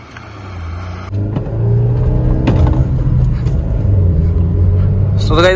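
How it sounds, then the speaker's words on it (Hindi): Engine rumble from a Honda City and a Mahindra XUV300 in a roadside drag race, a steady low drone building as the cars pull away, with a horn-like tone near the end. "ये दोनों गाड़ियाँ साथ में आ गई हैं और तीन हॉर्न पे हमने निकल जाना है"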